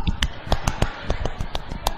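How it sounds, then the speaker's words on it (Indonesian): Scout-style rhythmic clapping, tepuk pramuka, sounds as a quick patterned series of sharp, close hand claps and snaps, roughly a dozen crisp hits in an uneven beat. "Tepuk pramuka"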